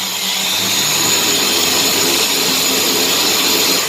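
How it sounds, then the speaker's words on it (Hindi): A corded electric drill in a welding workshop runs continuously as a loud, steady high-pitched whine with a broad hissing roar, close and unbroken. "ये हो गया ड्रिल मशीन।"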